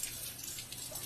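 Water pours and splashes down steadily from a burst ceiling, a continuous broadband hiss with no voices over it.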